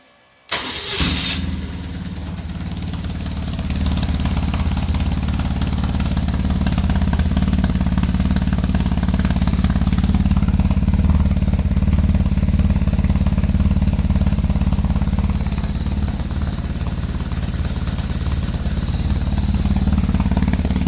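A BMW R 1150 GS motorcycle fitted with a Ztechnik aftermarket exhaust starts up with a sharp crank and catch, then settles into a loud, steady, throbbing idle that runs close and unbroken, with no talking.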